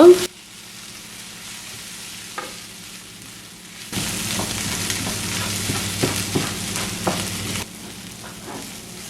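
Shredded cabbage and beaten egg stir-frying in a pan: a faint hiss at first, then from midway a louder, steady sizzle with scattered scraping stirs and small pops, no talking.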